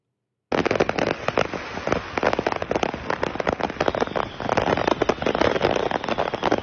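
Fireworks from a trailer struck by a semi truck in British Columbia go off in a dense, continuous barrage of loud crackling pops and bangs, starting abruptly and running unbroken to the end.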